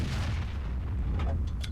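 Tank cannon fire in the World of Tanks game, a heavy, booming blast with a rumbling low tail lasting under two seconds, loud and close, followed by faint clinking game effects.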